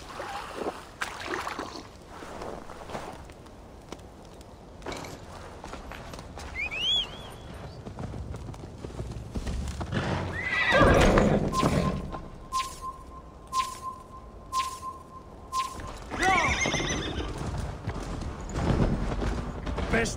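A horse galloping in Assassin's Creed Valhalla, with steady rhythmic hoofbeats, a brief whinny and game sounds throughout, under intermittent character dialogue.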